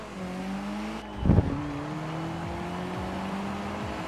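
A Volkswagen Scirocco in Forza Horizon 4 drives with a steady engine drone, a brief louder thump or tire scuff early on, then the motor holds an even, rising pitch.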